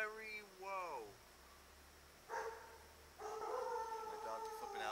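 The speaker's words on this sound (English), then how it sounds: "My dog's flipping out" A dog howls nearby in two short rising and falling cries, then more wavering, whining howls continue after a quiet gap.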